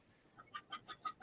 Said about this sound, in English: Does somebody have chickens there or something?